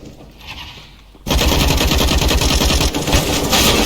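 Rapid automatic gunfire in the video game CS GO on the Dust 2 map bursts in after a quieter second and continues loud and dense, a fast rattling stream of shots with brief dips.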